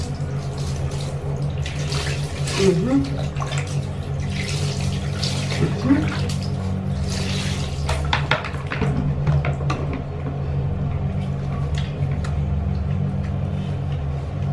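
Water from a tap runs steadily while a pet is being bathed, a close, continuous splashing flow with occasional splashes, while a person talks over it.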